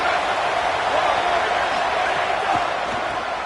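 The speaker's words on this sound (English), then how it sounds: "Big 3rd down as the crowd gets behind this defense." A stadium crowd at a Tennessee versus Texas football game roars in support of the defense on a third down, a sustained loud wash of cheering with a commentator talking over it.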